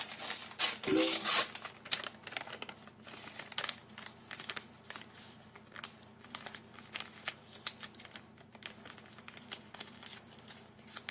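Paper is torn in a sharp rip near the start, then crumpled and crinkled at length in rustling, irregular bursts close to the listener, with no talking.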